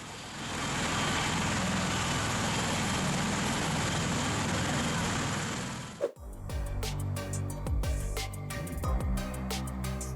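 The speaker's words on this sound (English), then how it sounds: "the V-22 Osprey stunned everyone with its powerful rotor downwash" Powerful rotor downwash from a V-22 Osprey tiltrotor visiting Clove Lakes Park: a loud, steady roaring wash of air and engine noise for about six seconds, then an abrupt cut.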